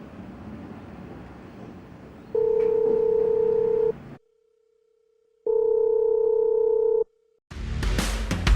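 A telephone call sounds as two long, steady electronic tones separated by short silences over faint background hiss, then ends in a burst of noisy clatter.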